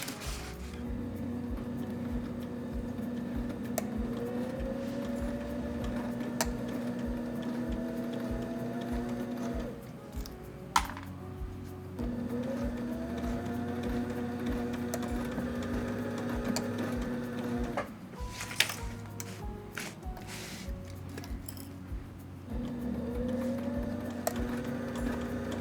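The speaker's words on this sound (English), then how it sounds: "Now we're gonna sew these folds into place." A sewing machine stitches folds of fabric into place in three sustained runs of steady mechanical whirring, separated by brief pauses with clicks and handling noises, close and clear.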